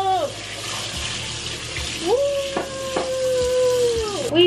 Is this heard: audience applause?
no